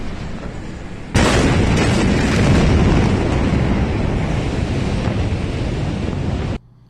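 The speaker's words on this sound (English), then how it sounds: "Here's the explosion. Let's watch the explosion here." A sudden massive blast hits after a second of low rumble, followed by a sustained roaring wash of sound that cuts off abruptly.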